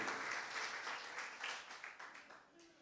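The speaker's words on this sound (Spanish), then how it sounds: "Denle un aplauso a Jesucristo." A church congregation applauds together, a dense, sustained clapping that gradually tapers off, with voices mixed in.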